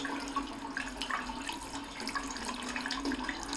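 Tap water runs steadily over blue-stained fingers being rinsed under plain water at a sink, a continuous close splashing flow with no talking.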